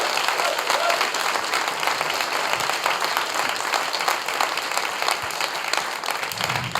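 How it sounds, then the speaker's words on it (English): Dense, sustained audience applause fills a TEDx event hall at TEDxCollingwood, many hands clapping evenly and continuously for several seconds with no break. "Thank you for the applause"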